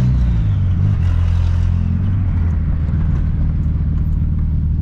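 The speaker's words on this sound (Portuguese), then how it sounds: "Por causa do barulho da turbina." Turbocharged VW Voyage engine runs loud and steady with a deep low rumble and a continuous whooshing turbo noise, driving through a neighborhood street, with no talk over it.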